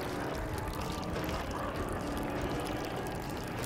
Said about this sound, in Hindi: ओह, यहाँ पे मुतूंगा तो आग बुझ जाएगी।